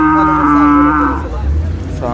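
A one-year-old calf of racing build at the Sangola cattle market moos loudly and close by in one long, drawn-out call, followed by a brief fainter second call.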